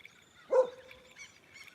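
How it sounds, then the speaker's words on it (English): An unfamiliar bird compared to a willy wagtail gives one short, faint call, followed by soft chirps in a quiet outdoor setting. "You're like a willy wagtail crossed with a goddamn weird bird."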